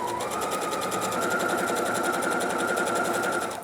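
Sewing machine stitching a 1 cm (3/8 inch) seam on a neckline, a steady, close, rapid mechanical whir running evenly throughout with no pauses and no voices.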